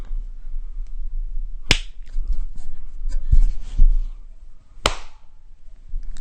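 Two sharp, loud single hand claps about three seconds apart ring out in a quiet recording room during a podcast session, with low background rumble between them.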